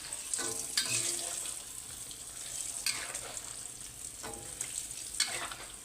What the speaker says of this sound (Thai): ซอยเป็นชิ้น ๆคลุกใส่กับแป้ง มาทอดให้มันกรอบๆดูครับเนี่ย